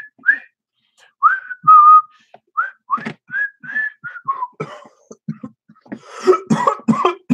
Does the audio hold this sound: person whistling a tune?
yes